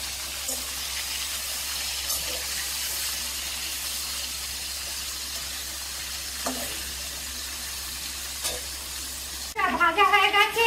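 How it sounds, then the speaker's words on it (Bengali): Hilsa fish fries lightly in hot oil in a home kitchen, a steady close hiss and sizzle throughout with a few soft clinks, and a louder burst of sputtering near the end. "এই দেখুন মাছটা একটু হালকা ভেজে নেব"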